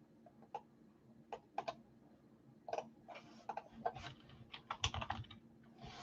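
Fingers tapping on a computer keyboard in scattered bursts of close, crisp clicks with short pauses between runs of keystrokes.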